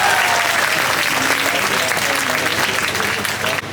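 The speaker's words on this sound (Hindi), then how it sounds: "जोरदार ताली बजाइए इस मंच के लिए।" An audience applauds loudly and continuously, a thick wash of many hands clapping that tapers slightly just before the end.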